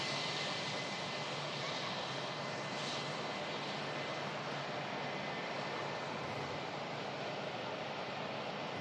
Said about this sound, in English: another stunning aircraft on the taxi, guys. Beautiful Singapore A350.